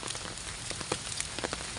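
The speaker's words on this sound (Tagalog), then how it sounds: "Umuulan guys." Steady rain patters on the ground and surfaces while people walk outdoors on the way home, a continuous dense hiss with scattered louder drops close by.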